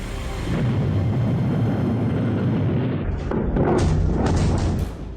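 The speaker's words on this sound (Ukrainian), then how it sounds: "Київ, Харків здригаються від вибухів." Heavy, rumbling explosions from Russian strikes on Kyiv and Kharkiv in Ukraine, a dense, continuous low roar of blasts and thuds with a sharper burst near the end, loud and close.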